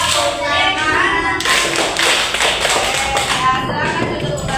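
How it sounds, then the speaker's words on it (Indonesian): Schoolchildren in a primary classroom tap their elbows and shoulders and then clap their hands together in a rhythmic group routine, with loud, busy, close-up tapping and clapping and some small voices mixed in. "Tepuk siku, tepuk pundak, tepuk tangan."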